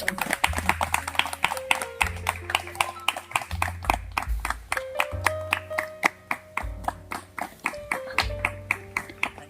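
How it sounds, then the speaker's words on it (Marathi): An audience at an event in Solapur claps loudly in a steady rhythmic beat for about ten seconds, with sustained tones sounding underneath. "एकदम जोरदार टाळ्या एकदम"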